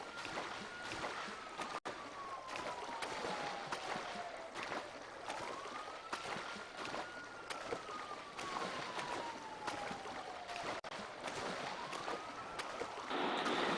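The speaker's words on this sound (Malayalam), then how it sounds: "ബോട്ടിൽ കയറിയിട്ട് അങ്ങനെ അപ്പുറത്തേക്ക് പോകണം" A boat crossing water in the mobile version of GTA 5, with a steady engine drone and water wash throughout, a rising and falling whine sweeping across, and a constant room fan hiss underneath; no talking.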